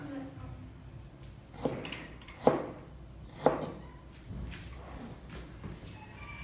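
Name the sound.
knife slicing chicken for ginger chicken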